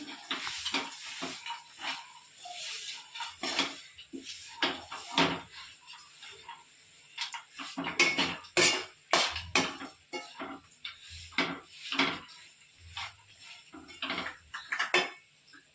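Chopped dry fruits and dates are mixed in a pan for a date and dry fruit roll, with irregular scrapes and clinks of a spoon against the pan, close but fairly soft, separated by short pauses.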